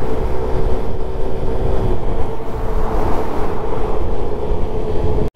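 A train passes in Long Beach, making a loud, close, continuous low rumble and rattle that holds steady throughout and then cuts off abruptly at the end.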